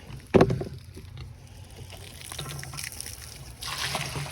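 Water filling a trough for pigs on a farm: one sharp splash at the start, then a steady low trickle and rush of running water close by.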